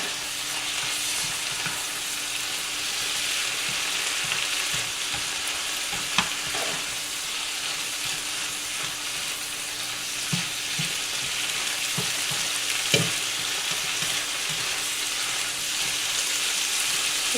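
Chopped vegetables for a western omelette sizzle and fry in a pan, a steady, close crackling hiss with occasional stirring clinks and pops throughout.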